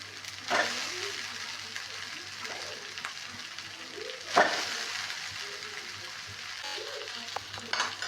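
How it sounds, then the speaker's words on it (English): Boiled noodles tossed in a hot wok give a steady sizzling hiss, broken by two sharp scraping stir strokes and some lighter clatter near the end, with a faint low hum underneath. "Now add boiled noodles to the wok."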